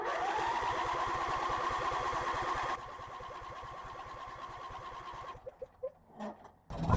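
A riding mower engine cranks on the key, a fast steady mechanical chugging that runs loud and continuous, drops in level partway through, then stops and leaves a few scattered clicks and knocks.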